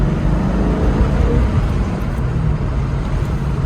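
A 1997 Ford Mustang SVT drives at speed, giving a steady, dense rumble of engine and road noise with no pauses.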